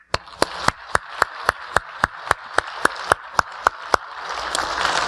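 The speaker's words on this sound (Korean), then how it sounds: "우리 박수합시다." A church congregation claps together in a steady unison beat, about seventeen crisp, evenly spaced claps over a light wash of crowd noise that grows a little louder toward the end.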